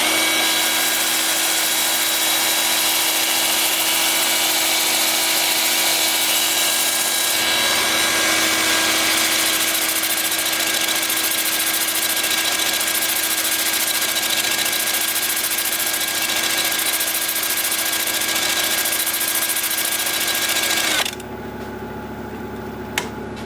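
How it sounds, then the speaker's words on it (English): A wood lathe spins in reverse at about 400 RPM while a pink dogwood winged bowl is sanded, giving a loud steady whir and broad abrasive hiss for about twenty seconds before the sound drops abruptly. "with the lathe spinning in reverse at about 400 RPM"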